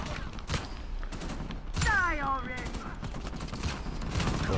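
Gunfire in Uncharted 4 rattles out in repeated bursts of shots and thumps, fairly close, with a brief whooshing effect midway.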